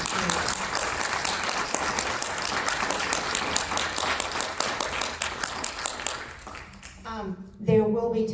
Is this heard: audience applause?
yes